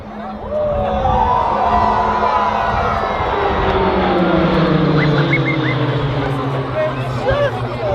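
Pilatus PC-9A propeller aircraft perform a twin break at an RAAF Base Point Cook air display, their engines loud and sweeping in pitch as they pull apart, over crowd noise and voices.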